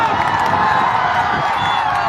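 A large crowd at an election rally in Bihar cheering and shouting, a loud continuous roar of many voices with whoops, backed by a sustained musical drone from loudspeakers.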